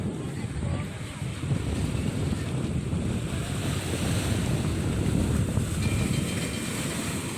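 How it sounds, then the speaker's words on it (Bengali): Rough sea waves surge and churn close by at Azheekal Beach, Kerala, a continuous heavy roar mixed with strong wind buffeting the microphone. "এখানেও একটু উত্তাল হচ্ছে সমুদ্রটা।"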